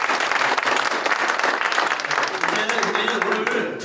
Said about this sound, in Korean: 피대수 중창단에게 격려의 박수를